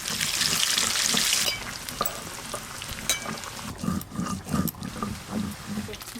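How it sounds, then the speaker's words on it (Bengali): Potatoes fry in oil for chicken biryani, a loud bright sizzle at first that settles into a softer crackle, with scattered clicks and scrapes of stirring. "এবার বিরিয়ানির জন্য আলুগুলোও ভালো করে ভেজে নেব।"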